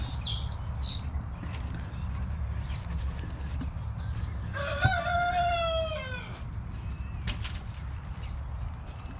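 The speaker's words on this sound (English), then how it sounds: "you can hear the chickens talking." Farm chickens with a rooster crowing clearly once mid-way, set against a steady low rumble and scattered clucks, fairly close and with no talk.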